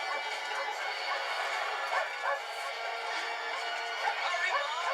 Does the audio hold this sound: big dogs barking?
yes